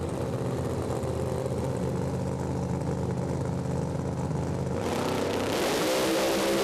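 Pro Mod drag racing cars at a British Drag Racing Championship round roar off the start line together, a loud sustained engine drone that surges and rises in pitch as they launch.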